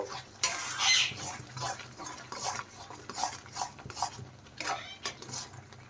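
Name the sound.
frying and stirring masala for chickpea curry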